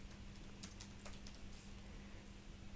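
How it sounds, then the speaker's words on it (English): Keys on a computer keyboard clatter in a short burst of taps as a message is typed, close but soft over a faint electrical hum, then stop, with no talk. "let's type our first message"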